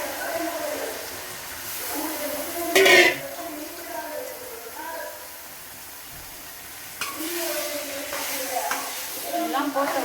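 Chicken pieces seasoned with turmeric and salt frying in a pan, with a soft steady sizzle, occasional stirring clatter and a sharp metal scrape near the three-second mark; a voice speaks in places.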